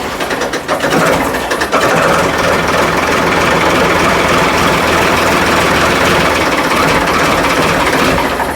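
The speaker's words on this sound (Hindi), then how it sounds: "आवाज़ सुनवाते हैं इसकी फोर्ड की" A Ford tractor engine turning over and catching on a cold day, then settling into a loud, steady heavy diesel run close by with no one talking.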